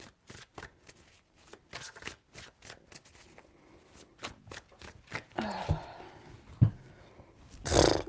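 Tarot cards being shuffled three times, a run of quick crisp riffling snaps in bursts, close and fairly quiet, ending with a louder brushing slide and a soft thump.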